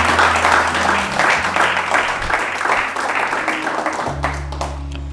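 A church congregation claps and applauds loudly and continuously in a dense wash of hands, with a low hum beneath and voices mixed in under the clapping.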